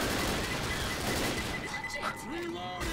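Dense, continuous gunfire from the zombie shooter Left 4 Dead rattles loudly through a chaotic scene, with a voice shouting over it near the end.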